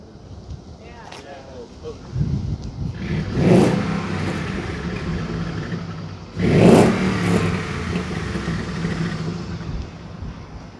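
A Ford Coyote 5.0 V8 swapped into a Lincoln Continental, idling with two strong revs swelling and falling back, close by with people talking around it.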